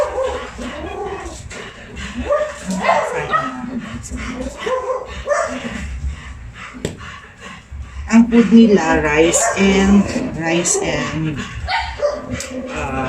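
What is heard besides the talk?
dogs barking and whimpering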